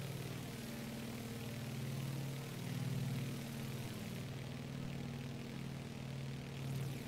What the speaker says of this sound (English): There's nothing quite like that popping radial engine sound.